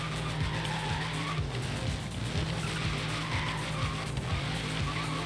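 A Liberty Walk Dodge Hellcat, rear-wheel drive, slides on dirt in the Forza Horizon 3 racing game, giving a loud, unbroken tire screech over a roaring engine that rises and dips throughout.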